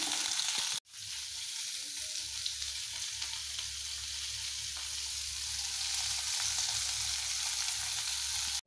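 Food fries in a pan with salt and turmeric, giving a close, steady sizzle that runs nearly unbroken after a brief cut near the start, with no talking over it.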